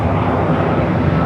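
Airplane departing LAX: a brief, loud, steady burst of jet engine roar, dense and unbroken, with no talk.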